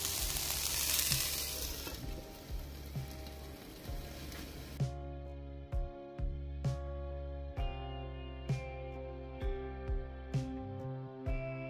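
Roasted vegetables sizzle loudly in a pan at first. The hiss then drops away, leaving a spoon stirring them with regular, close metallic taps about once a second.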